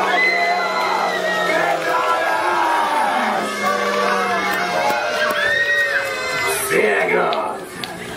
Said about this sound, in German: klatschen Sie ein wenig